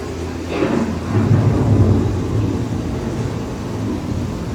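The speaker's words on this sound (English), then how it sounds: "The approaching storm may seem violent and destructive to us" An approaching thunderstorm with a deep, rolling rumble of thunder that swells and lingers, loud and steady with a broad background wash of wind and rain.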